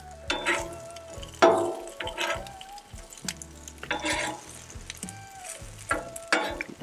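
Onions fry on a breakfast griddle, with a steady sizzle broken by repeated scraping and clattering of a spatula against the metal surface.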